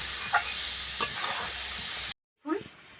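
A spatula stirs a thick mango and coconut sandesh mixture in a hot pan, scraping and faintly sizzling close up, with a few sharper scrapes, then a brief silence before stirring resumes.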